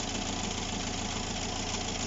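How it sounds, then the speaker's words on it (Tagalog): A Fiat Ducato's 2.0 diesel engine, just started after an EGR system cleaning, idles with a steady, close, dense rumble and a fine knocking texture throughout. "umandar na po yung sasakyan natin"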